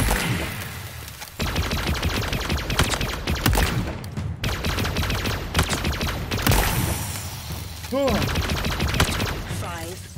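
Rapid video game gunfire on a firing range comes in fast, dense automatic bursts separated by brief gaps, loud and close. A voice speaks over parts of it, and warbling energy-weapon tones sound near the end.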